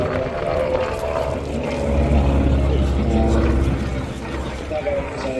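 A 100 Squadron aircraft flies at the Avalon Australian International Airshow, a steady low engine drone running throughout beneath continuous commentary.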